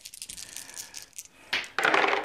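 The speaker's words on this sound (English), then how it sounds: "Oop, dropped dice out the back of the hand." Several dice tumble from a hand and clatter onto a tabletop during a tabletop wargame, with scattered light rattles followed by a louder burst of bright, close clattering near the end.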